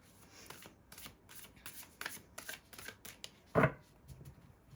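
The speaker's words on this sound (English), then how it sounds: "Shuffle it a couple more times" Close, quiet riffling and flicking of tarot cards being shuffled in quick bursts, with one louder slap near the end.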